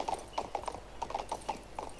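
Horse hooves clip-clop at a steady walking rhythm in the King's Bounty 2 video game, a run of evenly spaced, fairly faint taps with no speech over them.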